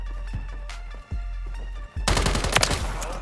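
Automatic gunfire in the video game Call of Duty Modern Warfare 3 (2023), a few isolated shots followed by a loud, rapid burst of machine-gun fire close up.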